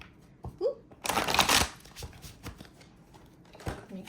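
A deck of tarot cards is given a quick shuffle: one close, dense riffle burst stands out, surrounded by quieter taps and card handling, with faint vocal sounds in the background.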